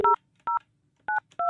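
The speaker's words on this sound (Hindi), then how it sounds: "मैं बउआ फ़ोन लगाने जा रहा हूँ पड़ोसी मुल्क पाकिस्तान में" Four short two-tone telephone keypad beeps as a number is dialed, clean and isolated, with uneven gaps between presses and near silence in between.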